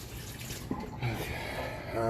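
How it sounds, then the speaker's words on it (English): Water runs steadily into a cooking pot on a stove, a continuous splashing wash over a couple of seconds with a faint low hum, while a voice murmurs lightly underneath. "I'm going to put some more water into that."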